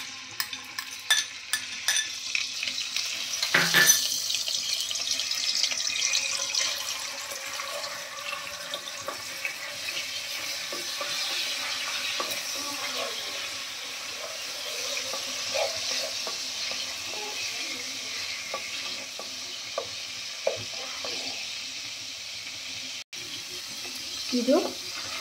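Ginger garlic paste fries in hot oil in a pan, a steady close sizzle with scraping and stirring throughout, a louder burst near the start and faint background noise, no talking.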